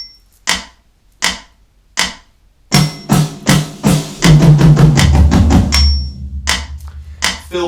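Drum kit in a Rockschool Grade 1 exercise: four evenly spaced count-in clicks, then a close, loud fill of single strokes in 8th notes, speeding to 16th notes around the toms, ending on a ringing crash and bass drum.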